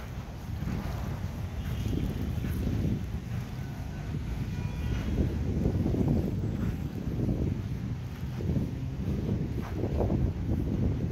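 Steady wind blows across the microphone at the Manila Bay dolomite beach walk, a continuous low buffeting rumble that swells and eases throughout.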